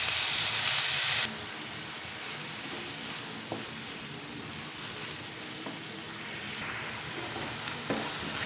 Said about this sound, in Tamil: கீரையில் உள்ள ஈரப்பதம் குறைஞ்சி தண்ணி வற்றி இந்த அளவு சுருண்டு வரும்போது